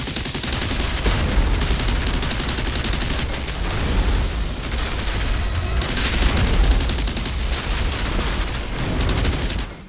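Rapid, dense firing from the Pain Launcher skill in Outriders Worldslayer, a loud continuous barrage of launched shots and impacts that holds for the whole stretch with no pauses, then cuts off at the end.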